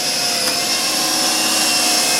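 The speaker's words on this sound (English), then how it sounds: "I'm going to take a screw, just a single screw, I'm going to hold it in place, and I'm going to drive that guy in there" A power driver runs steadily as a single screw is driven into a plantation shutter frame, with a loud, even motor whine that holds throughout without a break.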